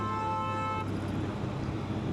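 A vehicle horn on a highway gives a steady, close toot for under a second and then cuts off, leaving a wash of passing road and traffic noise.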